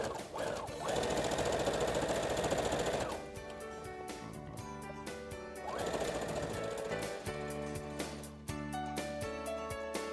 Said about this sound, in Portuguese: Vamos lá para a máquina? Bora pra costura.